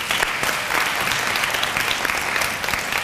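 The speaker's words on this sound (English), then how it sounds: "Let's give them one more round of applause." Steady applause from a gathering at a kindergarten awards ceremony, a dense, fairly close wash of many hands clapping with a few sharper claps standing out.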